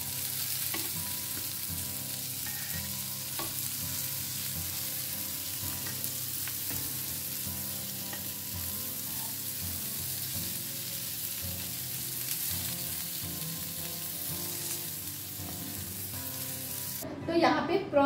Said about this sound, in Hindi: तो यहाँ पे प्रॉन्स फ्राई हो चुके हैं।